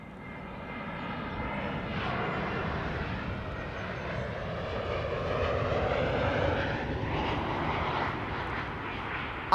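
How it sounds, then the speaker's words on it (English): A Boeing 747 being pushed back at Amsterdam Schiphol gives a steady jet engine roar with a whining tone that rises and shifts in pitch, fairly close and continuous, with no talking. "Hey, that's another 747 getting pushed back, ladies and gentlemen."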